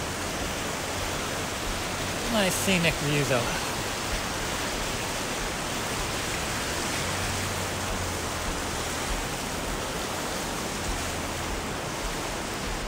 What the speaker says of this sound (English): Not sure if you can hear me over the sound of the river.